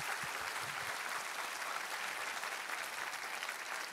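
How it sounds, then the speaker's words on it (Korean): A church congregation claps together in a steady, even patter of applause heard from some distance, fairly quiet, with no talking over it. "우리 하나님께 감사와 영광의 박수 올려드리겠습니다"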